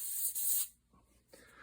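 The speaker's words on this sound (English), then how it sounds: "Excuse me while I spray in the trash can." Spray glue hisses from an aerosol can into a trash can in two bursts, a long loud spray followed after a short pause by a second, quieter spray.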